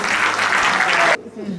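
An audience at a 2023 awards ceremony claps in a thick, even burst that cuts off abruptly after about a second, leaving quieter room sound and faint talk.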